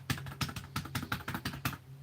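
Atari USB fight stick arcade buttons pressed repeatedly, a rapid, fairly loud run of close, crisp clicks in an uneven rhythm, with no talking.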